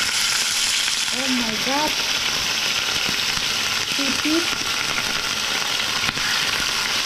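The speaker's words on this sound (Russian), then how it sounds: "Сейчас только поперчить, посолить и на раскаленную сковородку" A seasoned steak sizzles steadily on a very hot frying pan, a continuous loud hiss throughout, with two brief spoken exclamations over it.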